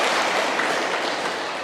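Sustained applause from a large audience at a Buddhist dharma gathering, a dense even wash of many hands clapping with no voices over it.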